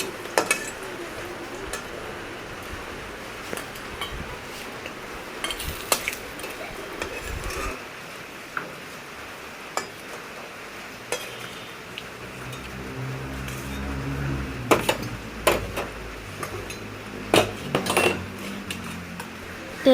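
Dried fish fried in a little hot oil in a wok, stirred with a metal spatula that scrapes and clinks against the pan in irregular bursts over a continuous sizzle, growing busier toward the end.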